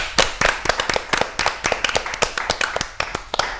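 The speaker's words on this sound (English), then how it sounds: "Should we give her a round of applause of confidence to wrap things up?" A panel-discussion audience at a haute couture event gives a brisk round of applause, dense overlapping claps close by and fairly loud, steady for several seconds with barely any voices.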